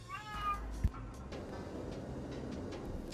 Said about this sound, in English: The cat demands attention and I must give it to him.